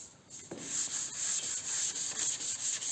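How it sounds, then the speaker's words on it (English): Continuous hand sanding of high-build primer on a steel car panel, a steady close scratchy rubbing with rhythmic strokes and no talking. "Still a few spots I'm going to have to sand further."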